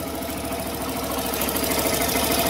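Suzuki Access 125 scooter engine with a slow-speed problem idling at a set RPM, a steady close-up putter with a faint knocking vibration and no talking.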